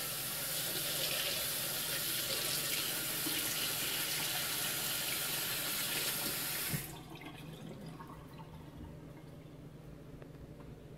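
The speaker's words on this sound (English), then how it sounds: "I'm gonna rinse off this little tool here." Tap water runs steadily and loudly over a small soap-making tool being rinsed, then cuts off abruptly partway through, leaving a quiet room.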